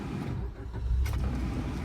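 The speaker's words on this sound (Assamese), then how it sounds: "ইঞ্জিনটো মই এবাৰ ষ্টাৰ্ট কৰি শুনাই দি আছোঁ আপোনালোকক" A Maruti Suzuki Baleno's engine idles with the air conditioning running and the radiator fan audible: a close, steady low hum and rumble over a brief stretch, no speech.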